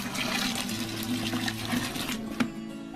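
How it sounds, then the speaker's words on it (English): Water trickles and splashes into a thick batter mixture at close range, in a steady running pour with no voices. "We're going to add more water, so if it gets too thick, you can stop and add a little bit of water now."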